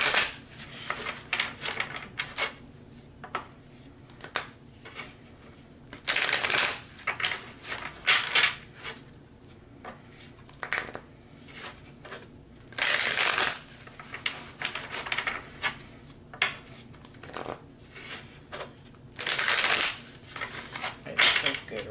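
Oracle cards shuffled by hand in a repeated riffling rhythm, with several louder bursts of card slaps standing out among quieter rustles, close and clear with no talking.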